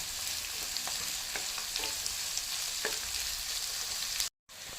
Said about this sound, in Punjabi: ਹੁਣ ਅਸੀਂ ਤੜਕੇ ਨੂੰ 5 ਤੋਂ 6 ਮਿੰਟ ਇਹਨੂੰ ਪਕਾ ਲੈਂਦੇ ਆ